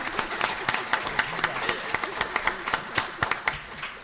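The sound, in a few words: audience applause at a chamber of commerce breakfast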